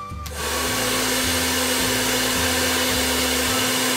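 An electric blower runs on its high setting, powered by a DIY inverter converting 12–60 V to 220 V. It gives a loud, steady whooshing roar with a low hum underneath, continuous and close, with no talking.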